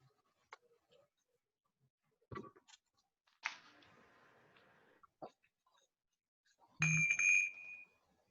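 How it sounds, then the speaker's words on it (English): A bell is rung once for dinner time near the end, a single bright ring that fades out after a few small clicks and rustles in a quiet room. "Somebody rang the bell."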